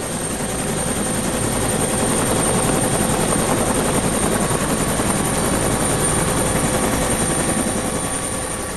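A large helicopter flies close by: a loud, continuous rotor thrum with a steady rapid beat and engine roar throughout, no voices.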